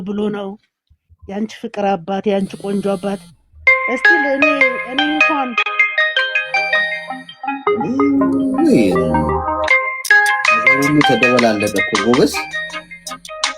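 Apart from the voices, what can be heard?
phone ringtone of an incoming call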